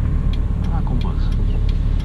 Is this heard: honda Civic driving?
yes